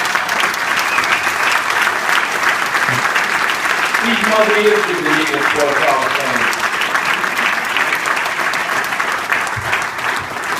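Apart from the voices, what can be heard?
audience applause at hall of fame ceremony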